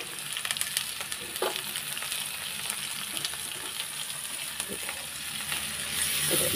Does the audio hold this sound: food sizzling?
yes